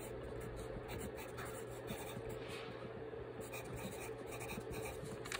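Close, quiet pen strokes on paper continue without a break as a phone number is written out during handwriting practice, a soft steady scratching over faint background hum.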